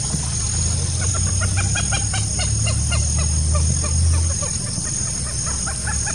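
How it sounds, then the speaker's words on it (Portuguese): A common moorhen (galinha d'água) calling in the Brazilian sertão, a series of quick clucking notes in short bursts over constant insect buzz and low rumbling background noise. "E o canto da galinha d'água."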